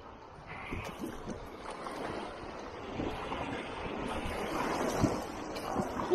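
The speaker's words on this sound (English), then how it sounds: "there's some moving water here" Fast-moving river water rushes and splashes around a raft, a continuous broadband wash with wind buffeting the microphone and swelling slightly louder toward the end.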